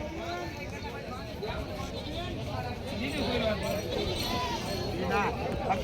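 Goats bleat repeatedly at the Parbhani Khandoba goat market, several wavering calls near and farther off over a busy murmur of crowd chatter and people talking.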